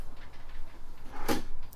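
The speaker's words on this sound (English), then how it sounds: "Drawer over here." A drawer in an RV opens with a single short, sharp slide and knock near the end, set against a low background hum.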